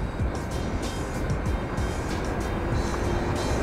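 A Honda Click motorbike engine hums steadily on a hill road while overtaking a car, with continuous wind rush and road noise close at hand.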